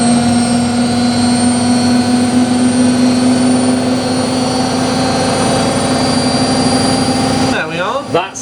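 A Samsung EcoBubble WF80F5E2W4W washing machine spins at high speed with a loud steady whine and rumble, then winds down abruptly near the end with a quick falling tone.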